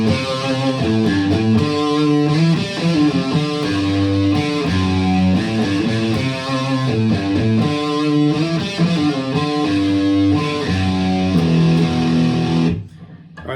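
Distorted electric guitar riff built around power chords and single notes, played loud and continuous with a dense, gritty tone for about thirteen seconds before stopping abruptly.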